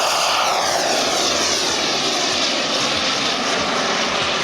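A giant 1/3 scale RC Tomahawk L-39 Albatros model jet with a Beotech 220 turbine roars through a flying display, its loud steady whine shifting in pitch as it passes.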